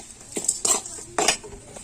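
A spoon scrapes and clinks against a pan in a few quick stirring strokes, close by, with a faint sizzle of frying tomatoes underneath.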